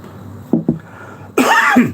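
A person coughs close up: two quick short coughs, a pause, then a longer harsh, rasping cough.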